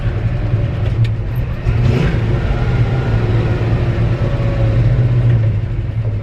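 A 1963 Chevy C30 pickup truck rolls along at low speed, its engine a steady, close, droning rumble with slight swells as it drives.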